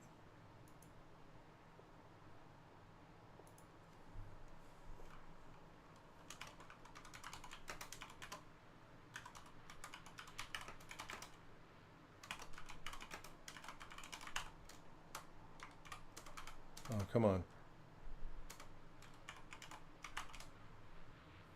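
Clicky bursts of typing on a computer keyboard come in uneven runs across a quiet room, close and light. A brief spoken interjection and a soft rustle break in partway through.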